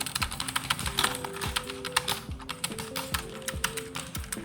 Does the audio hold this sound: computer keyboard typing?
yes